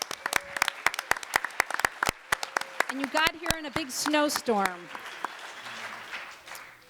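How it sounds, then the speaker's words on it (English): Audience at a youth bike summit breaks into scattered hand claps that build toward a dense burst of applause, with a voice speaking over the middle before the clapping fades to a quieter murmur. "please give yourselves a big round of applause"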